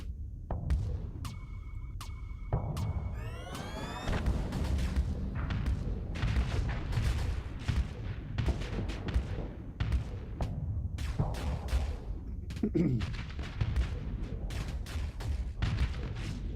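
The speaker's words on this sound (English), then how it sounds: "Hypervelocity guns and plasma cannon." Hypervelocity guns and plasma cannon fire in the space combat game Starsector, producing repeated booming shots and heavy thuds over a low throbbing hum, with rapid bursts clustered throughout.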